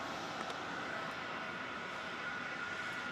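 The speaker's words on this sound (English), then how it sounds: "Jetstar 532 on 27's off to Sydney with a 320." A Jetstar Airbus A320 takes off from runway 27 at Melbourne Airport, its engines a steady, broad roar that holds at a moderate distance with no talk over it.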